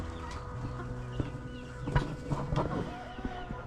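Homestead chickens cluck and squawk intermittently at moderate distance over a steady outdoor background, with a few sharper calls standing out and faint rustling throughout.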